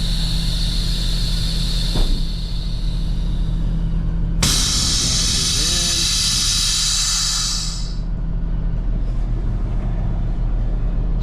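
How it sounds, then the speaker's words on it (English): Air suspension bags on a new 2025 Kenworth W990 dump truck release with a loud, sustained hissing rush of air lasting several seconds over a steady idling engine drone, then cut off. "So one thing with the Kenworth too is it automatically dumps the bags when you're engaging the PTO"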